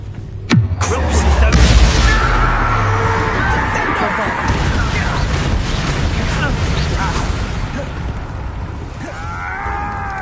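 Confringo blasting spell in Hogwarts Legacy gameplay, a heavy booming explosion with a rumbling low roar that sustains and slowly fades over several seconds, loud and close.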